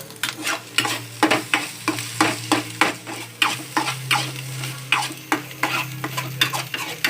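Maggi noodles with turmeric stirred in a pan, a spatula scraping and clacking in a quick, regular rhythm over a soft sizzle, close and alone without talk.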